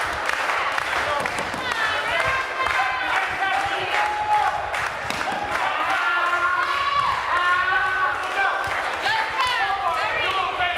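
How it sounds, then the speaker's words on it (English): Wrestling event crowd at RWA Legacy 7 cheering and chanting loudly in a hall, a dense sustained roar with rising voices and scattered claps, while a commentator talks over it. "This crowd trying to get behind the movement here."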